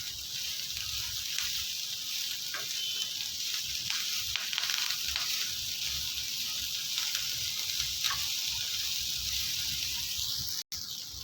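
Coriander leaves sauté on a hot tawa for chutney, a continuous close hiss and sizzle with faint stirring scrapes running throughout, one brief cut near the end.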